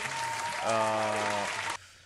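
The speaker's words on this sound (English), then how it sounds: "I was waiting for my round of applause to" Applause at a Disneyland fantasy fair show of Tangled, a burst of clapping with music and a sustained sung tone over it, cutting off abruptly near the end.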